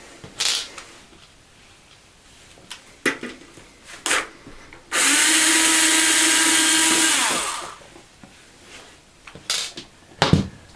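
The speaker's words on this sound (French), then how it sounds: "Donc on sort le tournevis." A powered screwdriver drives screws into a Fractal Design Node 605 PC case in one steady, whirring burst of about three seconds, surrounded by scattered clicks and handling knocks.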